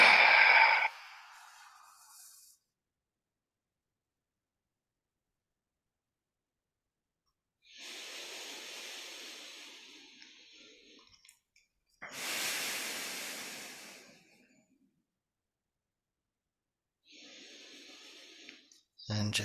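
Slow breathing during a meditation exercise: separate long, airy inhales and exhales, each lasting several seconds, with stretches of near silence between them, close and soft.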